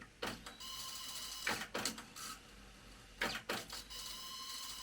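Mechanical whirring of a cassette tape winding, with several louder buzzy bursts between a steady quieter hum, close and with no talking.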